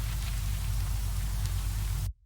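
Unequalized processed noise layer from an ambient techno track, a steady rain-like hiss with heavy low-end rumble and a pulsing low-mid texture, loud and continuous before cutting off abruptly near the end.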